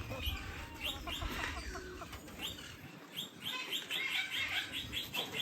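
Young Lady Amherst pheasants in an aviary give high, repeated chirping calls at close range, with soft clucking and rustling in between.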